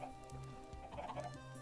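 Chickens in the video game Minecraft cluck softly in a few short, quiet bursts over low background music, with no talking.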